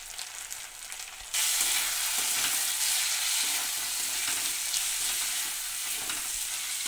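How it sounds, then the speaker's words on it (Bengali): Spices with cumin and turmeric powder frying in a pan, a loud continuous sizzle that surges in suddenly and keeps going with intermittent stirring scrapes. "মশলাটা ভাজা হয়ে গেছে,"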